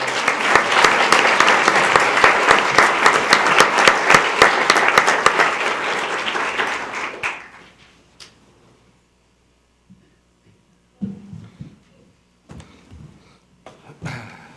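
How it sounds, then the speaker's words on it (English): Loud, dense applause at a school board meeting for spelling bee winners, sustained for about seven seconds before fading out, followed by near silence with a few scattered thumps and bits of movement. "Let's give another round of applause."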